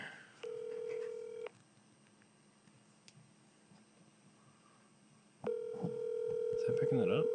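Two bursts of telephone dialing tones, each a steady electronic beep sequence, separated by a quiet pause with faint background hiss.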